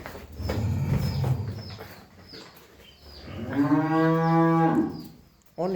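High-quality Jersey cattle at a cattle market in Bogura give a long, loud, drawn-out moo that swells in the middle, with shorter lowing sounds and background noise before it.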